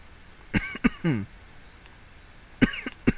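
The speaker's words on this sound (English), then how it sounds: "Can't wait for this cough to disappear." A man coughs in two short bursts, a pair of dry coughs then a gap of quiet before another cluster of two or three coughs, close and fairly loud against a quiet room.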